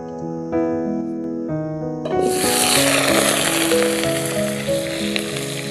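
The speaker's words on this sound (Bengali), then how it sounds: "প্রথমে আলুগুলোকে আমি ভেজে নিব।" Potatoes hit hot mustard oil in a wok for a mutton curry, a loud broadband sizzle swelling after about two seconds and holding steady under tonal background music.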